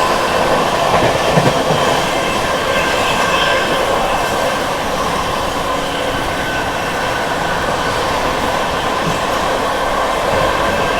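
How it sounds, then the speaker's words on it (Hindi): An Amrit Bharat Express passenger train runs through the Prayagraj area, heard from inside as a loud, continuous rumble and rattle of wheels on track, steady throughout with no voices. "हमारी ट्रेन इस समय प्रयागराज शिव की जंक्शन को स्किप कर रही है"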